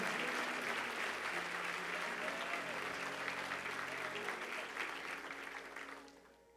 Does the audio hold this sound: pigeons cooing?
no